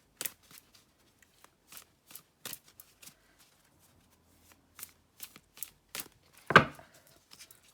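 Tarot cards shuffled and cut by hand, a series of short crisp riffling bursts with brief pauses, close and fairly quiet, ending in one louder slap of the deck.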